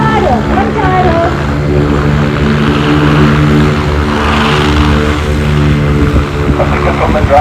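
Steady droning propeller engine of a Bushcat light aircraft throttled back to idle while landing at the Parys airshow, loud and continuous with tonal harmonics and wind rush, holding level throughout.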